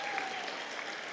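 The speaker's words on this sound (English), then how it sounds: "Big round of applause to our first match of the day." Applause at an FTC Alberta POWER PLAY robotics competition in Northern Alberta after the first match of the day: a short, fairly faint, even wash of clapping from the crowd.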